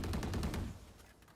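Rapid gunfire from a Valorant headshot replay, a burst of several quick close shots in the first half second that thins and fades out.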